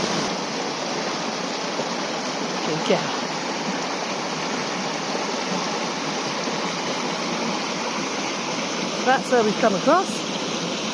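Water flowing in a Dartmoor stream near Venford, a steady broadband rush filling the whole clip, with a voice briefly speaking to a dog over it.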